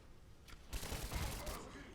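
Assault rifle fire in Rise of the Tomb Raider comes as a loud, dense burst of rapid shots that lasts about a second, followed by a fainter trailing shot, against low game ambience.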